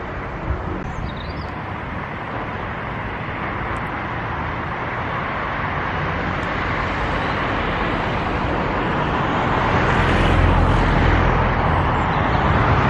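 Continuous roaring rumble of a roller coaster train at Blackpool Pleasure Beach running into its brake run after a 205-foot first drop, building louder toward the end and heard from a distance amid crowd and park noise.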